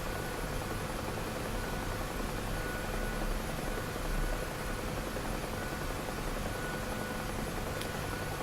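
Simulated helicopter rotor and engine drone from a flight simulator game, a steady dense broadband whir with a faint high whine, running continuously at moderate level with no voices.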